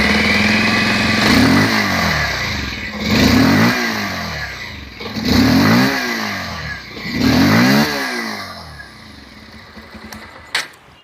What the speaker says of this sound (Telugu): ఒకసారి మీకు ఎగ్జాస్ట్ నోట్ వినిపిస్తాను చూడండి.